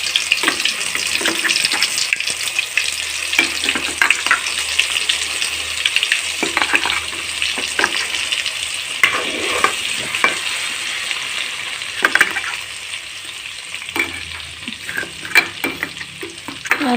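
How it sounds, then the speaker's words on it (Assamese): Ginger, garlic and onion paste fries in a hot pan, giving a steady bright sizzle with repeated scraping and stirring strokes, close and loud, with no talk. "আদা নহৰু পিঁয়াজৰ পেষ্টটো দি ভালদৰে ভাজি ল'ম যাতে কেঁচা গোন্ধটো নাথাকে"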